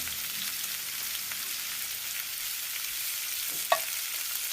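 Dried chilli, curry leaves and onion fry in oil for a dal sambar, a steady, close, bright sizzle throughout with one small utensil clink near the end.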